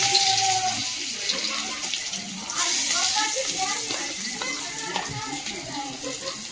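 Onion frying in a pan for chicken fry, a steady sizzling hiss that continues throughout while a person talks over it.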